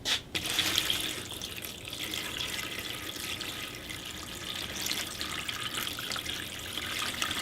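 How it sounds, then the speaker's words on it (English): Water poured into cascading burlap irrigation trays, a close, continuous splashing flow like a running tap that starts with a sharp onset and holds steady throughout. "So I'm just going to pour some water in here."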